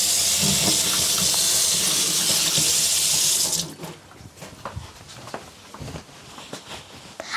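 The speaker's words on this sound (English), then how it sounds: "First we're gonna wash our hands." A kitchen tap runs steadily with a loud, hissing gush while hands are washed. After about three and a half seconds it shuts off, leaving soft drips and small clinks.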